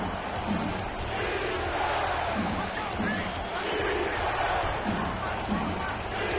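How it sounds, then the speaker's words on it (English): Football crowd in a stadium chanting "defense" during a fourth-quarter game, a dense, continuous roar of many voices with a rhythmic chant rising and falling, loud and steady throughout. "Crowd chanting defense."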